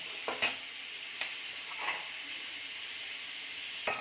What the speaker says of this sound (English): Yes, onion is cooking nicely.